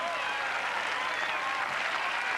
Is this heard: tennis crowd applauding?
yes